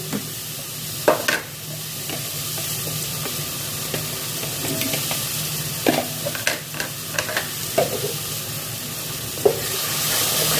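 Spices and yogurt being stirred and fried for a prawn malai curry, with a spoon scraping the pan in irregular strokes over a steady sizzle, a few louder knocks standing out.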